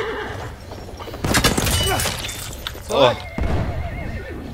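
A horse in the video game Battlefield 1 whinnies loudly amid gunfire, hoofbeats and crashing battle noise, with a player speaking briefly over the action.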